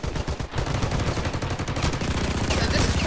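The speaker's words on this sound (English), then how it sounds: "As you can see, there's a lot of gunfire." Dense, continuous gunfire from the video game Ravenfield, rapid overlapping shots and bursts filling the whole stretch at a steady loud level with no pauses.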